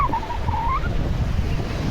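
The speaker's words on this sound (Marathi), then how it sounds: "लाटा कसं चालले का समुद्राचे" Sea waves roll and wash onto the shore at Arnala beach near Virar, a steady, broad surf rumble with a soft breeze running through it, continuous and fairly close.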